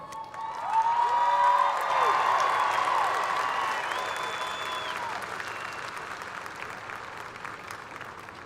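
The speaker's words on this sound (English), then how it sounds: "Let's give them a big round of applause." Audience applause at a high school graduation ceremony swells quickly and then slowly fades, with cheers and whoops rising above the clapping near the start.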